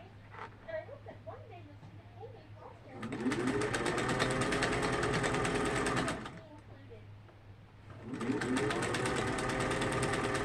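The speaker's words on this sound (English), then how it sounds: "I'm going to start sewing it down." A sewing machine stitches down fabric for a 1982 Victorian fan pattern, running in two sustained bursts with a steady rapid whir, separated by a quiet pause where faint speech and handling sounds are heard.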